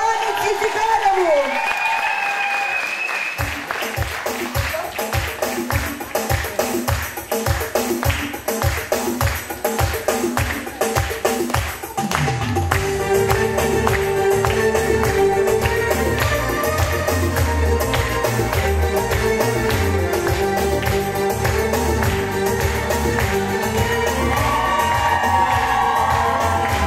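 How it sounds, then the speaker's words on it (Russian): Concert audience in Krymsk breaking into loud, sustained applause and cheering, with whoops and shouts rising over the crowd and music continuing beneath it for the whole stretch. "Аплодисменты!"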